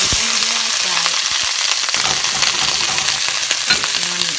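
Sliced onions fry in not-too-hot oil, a loud, dense crackling sizzle running continuously up close with a few clinks, no speech.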